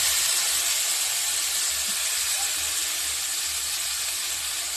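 Sliced potatoes fry in a pan, giving off a continuous, even sizzling hiss at close range that holds steady from start to finish with no voices over it.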